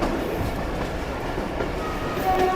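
A train runs on a railway line near the Afghan border in Pakistan, approaching Yaru railway station, with a continuous close rumble and rattle of wagons on the track and no voices.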